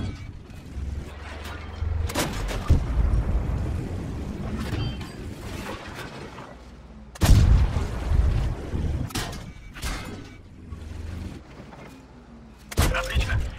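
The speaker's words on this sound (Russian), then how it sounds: "Можете открыть огонь." Tank cannon shots in World of Tanks on a Kharkov map, heavy booming blasts at irregular intervals, several loud reports spaced a few seconds apart over a low engine rumble and mechanical clanks.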